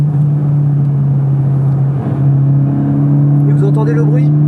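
Race car on the Magny-Cours Formula 1 circuit, a loud steady engine drone with a rising tone near the end as it accelerates, heard close from onboard.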